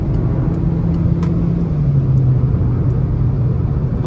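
A 2022 Peugeot 208 Allure 1.6 automatic at full throttle on the road, engine drone heard from inside the cabin, a loud steady rumble whose pitch climbs and then dips slightly as it shifts, with no talk.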